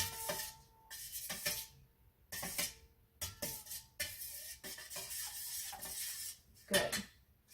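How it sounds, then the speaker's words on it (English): A mixture for stuffed peppers is stirred in a dish, with bursts of scraping and clattering from the utensil against the dish, broken by brief pauses and heard close, with no talking. "So let's get that stirred up."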